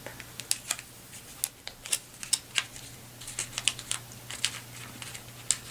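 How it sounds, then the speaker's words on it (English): Tape being handled and pressed onto a folded paper kusudama flower petal makes close, quiet crinkles, taps and sharp little clicks in an irregular patter, with no talking. "Tape this one up."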